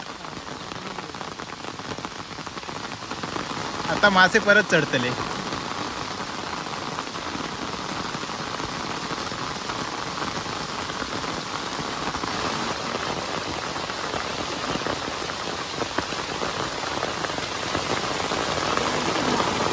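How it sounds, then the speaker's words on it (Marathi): Heavy monsoon rain pours down by a river in a loud, steady hiss throughout, with a brief clattering burst early on and a voice speaking briefly. "पाऊस आला परत एकदा जोरात"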